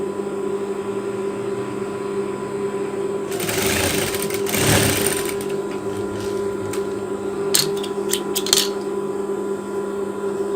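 An electric sewing machine stitches fabric for a tank top, its needle whirring in a steady hum, with a louder burst of fast stitching near the middle and a few short taps toward the end.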